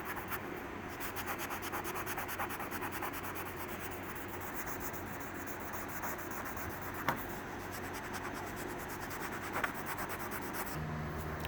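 Rubbing compound is worked by hand onto Awlgrip boat paint during spot repairs, a continuous close, soft scrubbing rasp with a steady rhythm and a couple of faint knocks.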